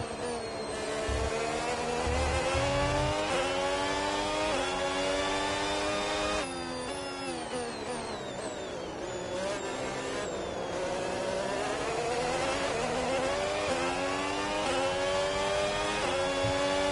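In the F1 2026 video game, an F1 race car engine screams continuously. Its high-pitched whine rises and falls through repeated gear changes, loud and alone.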